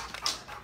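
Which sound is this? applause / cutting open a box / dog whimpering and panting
dog whimpering and panting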